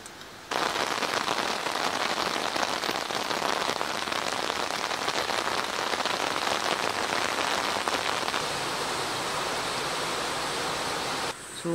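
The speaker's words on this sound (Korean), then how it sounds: "새벽에 비가 오긴 오더라고요." Rain falls steadily on a car at night while car camping at a mountain campsite, a dense, even patter on the roof that holds for about eleven seconds.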